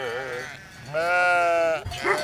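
Several sheep bleat in a flock at a Polish highland blessing of the herd, with wavering, overlapping cries that rise and swell, loud and close, one long bleat dominating the middle.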